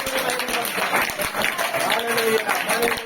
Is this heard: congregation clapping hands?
yes